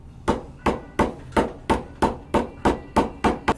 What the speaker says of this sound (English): Give that a few taps, a few more, and then we'll go with the rounded side of the ball peen.